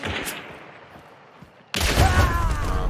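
A Vetterli 71 Karabiner rifle in Hunt: Showdown fires a single sharp, loud shot that cracks and booms, with a brief rolling echo after it.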